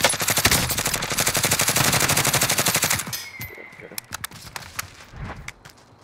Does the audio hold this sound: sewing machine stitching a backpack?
no